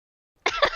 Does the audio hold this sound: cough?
yes